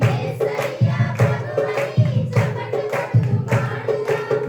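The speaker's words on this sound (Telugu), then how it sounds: "యేసయ్య ప్రభువని చప్పట్లు కొడుతూ పాడుదాం" Rhythmic hand clapping keeps a steady beat along with a devotional hymn sung at a Catholic novena service in Sompuram, the claps sharp and regular over the music.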